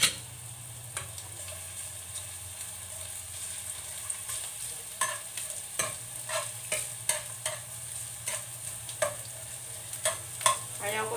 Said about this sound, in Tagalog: Yung ginigisa mo yung luya,